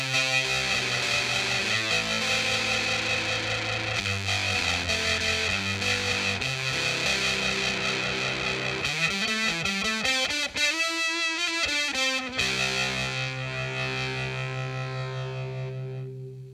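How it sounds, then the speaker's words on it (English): A heavily distorted electric guitar plays through an Electro-Harmonix Holy Stain multi-effect pedal, sustained chords and bending notes, gritty and saturated, with a swelling, wavering passage before settling back into thick chords. "So now let's bring in the distortion side"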